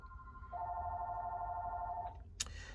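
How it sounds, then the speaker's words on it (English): A shop telephone rings steadily for about two seconds, its tone fairly loud and close against a low room hum, then cuts off and is followed by a brief sharp click or clatter. "So I'm gonna let the shop phone ring."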